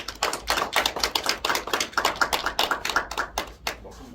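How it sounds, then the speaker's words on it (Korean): An audience at a lecture gives welcoming applause, a dense run of close, sharp handclaps in quick irregular rhythm that thins out toward the end, with no talking over it. "여러분 앞으로 모실 때에 큰 박수로 환영해 주시기를 바랍니다."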